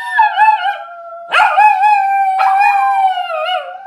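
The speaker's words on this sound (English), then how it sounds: "and then they'd start howling" Several dogs howl together in long, wavering tones, one howl trailing off before others join in two fresh swells, loud and close with no talking.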